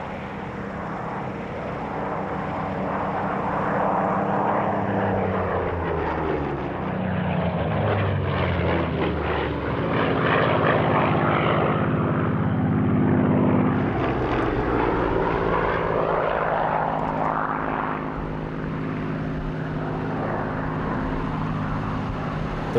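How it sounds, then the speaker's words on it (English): Spitfire Mark II and Mark V fighters fly a display at an air show, a continuous propeller-engine drone that swells and fades as they pass, fairly distant and without talk. "Next to display are the Spitfires, Mark II and Mark V of the BBMF."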